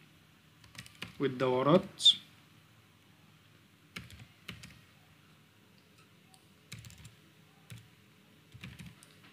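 Soft clicks of a computer keyboard as a report name is typed into Excel, a few scattered short bursts of keystrokes after a brief spoken word near the start.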